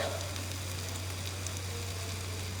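Garlic goes into a pan of softening onions, giving a continuous soft sizzle over a low steady hum, with no voices.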